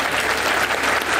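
An audience claps in a loud, dense burst of applause, constant and close throughout the brief moment.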